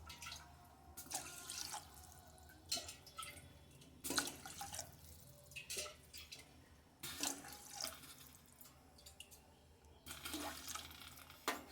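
Water poured into a pot for sweet pongal made with sugar, heard as faint, intermittent splashing and dripping bursts close by in a quiet kitchen.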